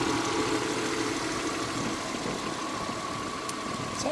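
Audi A4 B6 with a 3.0 V6 idling steadily in a garage right after a serpentine belt replacement, a continuous mid-pitched engine hum with faint ticks and no talking.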